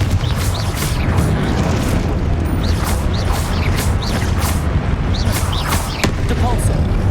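Confringo, a fiery blast spell in the Hogwarts Legacy video game, goes off amid dense, continuous combat noise, with repeated booming impacts and crackling bursts layered over a steady low rumble.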